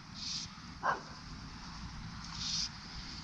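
A dog barks near a subdivision pond during fly fishing for bluegills, with a few short, distant barks and yips spaced over a steady outdoor background.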